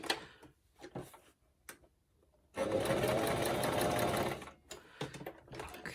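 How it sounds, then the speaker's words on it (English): A sewing machine stitches during envelope making, running in one steady, loud, close whir for about two seconds, with quieter handling clicks before and after. "All right, one more little stitch there."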